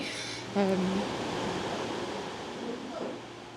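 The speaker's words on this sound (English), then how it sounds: "this is crashing waves onto the beach" Three-foot waves at a beach in Amed, Bali, crash and wash ashore as a steady, loud broadband roar with a brief surge, near and continuous, with a short vocal sound early on.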